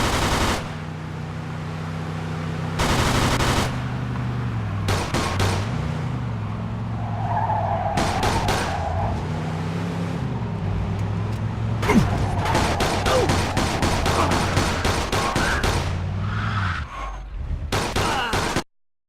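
Car chase in the video game Mafia II: a roaring engine speeding with repeated tire skids and screeches, bursts of rapid machine-gun fire cutting in, loud and close, with brief game voices.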